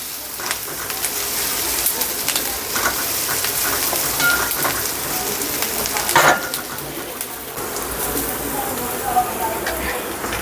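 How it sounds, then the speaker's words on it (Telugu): Chicken curry sizzling and frying in an iron kadai, a steady loud crackling hiss throughout with occasional stirring scrapes. "దీన్ని కొంచెం ఎర్రగానే వేగనిద్దామండి."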